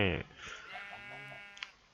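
A sheep bleats in the video game Minecraft, a short wavering cry that fades under someone talking during play.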